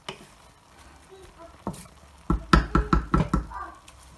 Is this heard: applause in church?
no